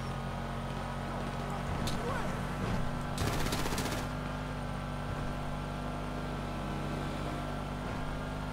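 Gunfire during a GTA 5 Online heist setup mission to steal meth, with a short dense burst of rapid shots amid steady engine and ambient game noise, while players talk over it.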